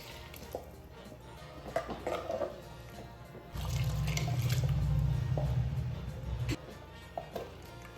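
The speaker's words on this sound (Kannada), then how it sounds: "ನಿಮಗೆ ಸಾರು ಎಷ್ಟು ತಿಳಿಬೇಕು ಅಷ್ಟು ನೋಡಿಕೊಂಡು ನೀರು ಹಾಕಬೇಕು" Water poured into a pot of coastal-style etti ambade gasi, a prawn and hog plum curry, makes one steady, close pour of about three seconds with no talking over it.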